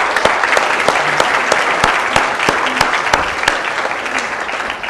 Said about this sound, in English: Please join me in giving him a round of applause as well.